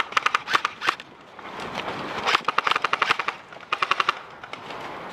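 Airsoft guns firing in bursts during an outdoor fallback game, with rapid clattering volleys and pauses in between and some scattered single shots, loud and close.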